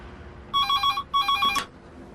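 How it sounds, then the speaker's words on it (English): A telephone rings inside a phone box: two bright electronic double-trill bursts, close and loud, with a brief click at the end of the second ring. "When the telephone call came through"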